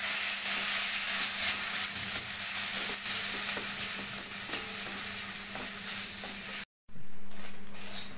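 Barnyard millet (bhagar) roasting in a pan and being stirred, a steady dry sizzle and hiss with scraping stirs, close and continuous, with a brief dropout near the end.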